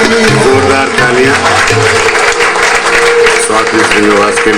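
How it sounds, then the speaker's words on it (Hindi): Audience applause at a ghazal concert, dense and steady for several seconds under sustained instrumental tones, likely sarangi and harmonium, with no voices clearly standing out. "जोरदार तालियां"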